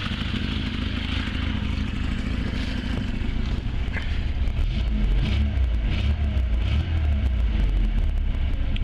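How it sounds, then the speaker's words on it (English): A cold 1980 Lada 2101 engine idles loudly up close, then is blipped a few times, the revs rising and falling in short bursts. "give it a couple revs, even though it's still cold."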